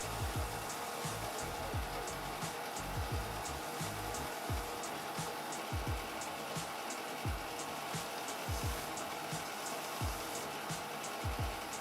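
Puzzle pieces of wood and epoxy being sanded on a power sander, a steady loud motor whine running throughout with repeated rough grinding bursts as each piece is pressed against the abrasive.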